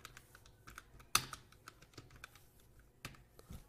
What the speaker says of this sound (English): let's type hello world.